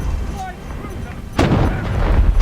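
Ship cannon shells fire in the naval mode of War Thunder Mobile, with one heavy boom followed by rumbling and a sustained roar, amid softer game noise.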